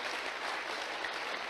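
An audience at a talk gives soft, even applause, a continuous hiss of many hands clapping at a distance, faint and unbroken.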